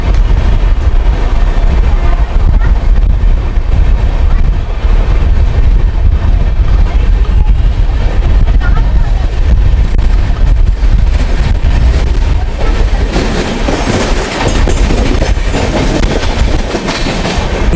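The Saurashtra Mail train rolls along loudly from inside an Indian Railways 3rd AC economy coach, a continuous heavy rumble with rattling and clickety-clack building as it gathers speed, no talk.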